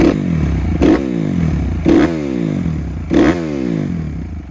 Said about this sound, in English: a couple revs, you know what I mean? It's got a pro circuit full exhaust